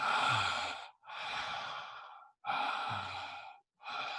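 Conscious connected breathwork: long, audible breaths drawn in and released through the mouth without pause, four deep cycles in a steady rhythm, close and alone with brief silences between.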